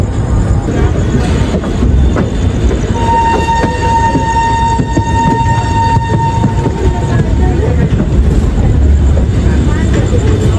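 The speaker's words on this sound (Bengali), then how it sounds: "ট্রেন কিন্তু ছেড়ে দিল হাওড়া স্টেশন থেকে" A passenger train leaving Howrah for Asansol rumbles steadily with loud rolling noise, and a long horn or whistle tone sounds midway. Voices are heard faintly inside the carriage.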